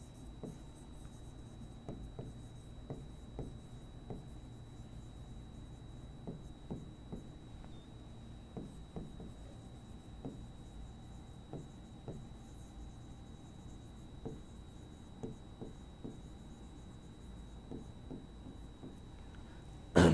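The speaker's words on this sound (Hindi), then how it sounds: "यहां पर हमने एक सेंटेंस लिखा" Chalk or marker tapping and scratching against a classroom board as an English sentence is written, with short intermittent strokes spaced irregularly, faint against a steady background hiss and a thin high tone.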